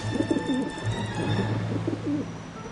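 Pigeon in the video game Syberia: The World Before giving repeated soft, throaty coos in a rolling rhythm, close and clear over a faint steady ambient hum.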